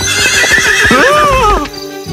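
A horse on a road gives a loud, close neigh with a rising and falling whinny, preceded by quick clip-clop hoofbeats, all within about two seconds before the sound drops away.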